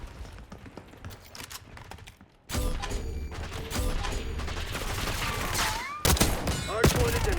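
Rapid automatic gunfire in Black Ops 6, loud, close and sustained after a short quieter lead-in, with mechanical weapon clatter and other game effects mixed in.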